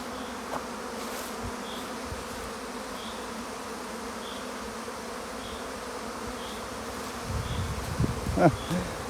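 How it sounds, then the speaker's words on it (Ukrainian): Dense, steady buzzing of many honeybees swarming close by at an apiary hive, with a louder rustle near the end. "Чому ж сюди всі бджоли злітаються?"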